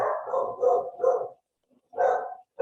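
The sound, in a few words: dogs barking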